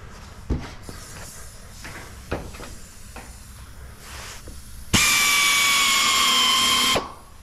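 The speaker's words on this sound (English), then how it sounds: "Nice, these self-tapping screws. Makes it so easy." A power drill drives self-tapping screws into the round metal frame of an old small hay trailer, heard as a few short clicks and bumps followed by one loud, steady two-second whine that stops abruptly.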